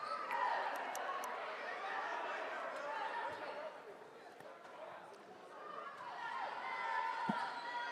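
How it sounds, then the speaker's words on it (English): Spectators at a high school basketball game in a gym, a crosstown rivalry between Eagleton and William Blount, fill the room with a steady murmur of distant chatter and occasional shoe squeaks. A commentator's voice talks over the crowd. "Got the crowd filing in."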